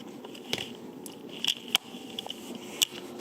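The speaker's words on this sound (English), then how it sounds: "you want to cut open the plastic. Just cut the plastic." Scissors snip through plastic wrap on a pizza in a few sharp, close clicks and crinkles spread over a few seconds, with quiet rustling in between.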